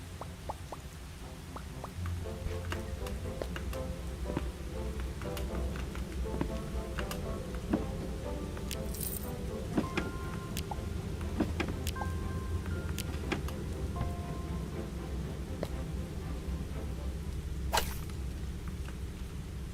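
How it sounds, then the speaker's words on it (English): Rain falls outside, heard as a soft steady patter with scattered sharper drips and a low background rumble, fairly quiet and distant. "Because I can hear the rain, which is a good sign."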